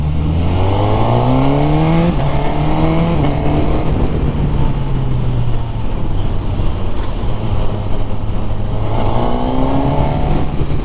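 Suzuki Katana motorcycle with the K5 engine out on a ride: a loud, steady engine roar that climbs in pitch through the gears, settles into a sustained drone, then revs up again near the end.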